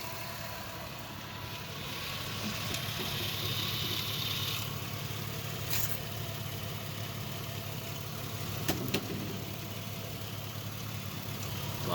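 A car engine idles with a low, steady hum, quiet and continuous, with a couple of faint clicks and no talking.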